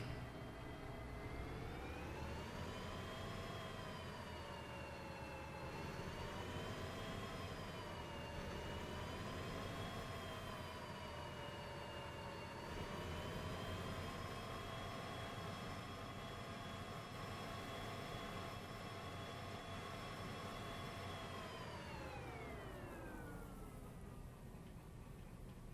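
A train locomotive engine running in the railway simulator Derail Valley, a steady low droning hum with tones that slowly rise and fall, faint and continuous, with no speech.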